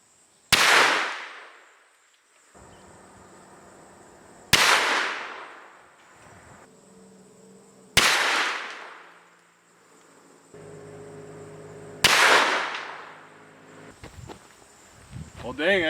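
Four loud, sharp shots from a Marlin 1894 .44 Magnum lever-action rifle firing 270 grain bullets outdoors, spaced a few seconds apart, each with a ringing decay and quiet handling noise between.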